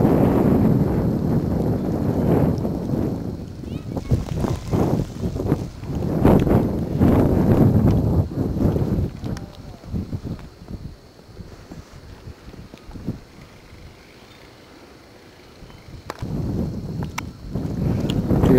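Wind in a snow storm buffeting the microphone with heavy gusts and rumbling bursts, easing to a quieter lull before gusting again near the end.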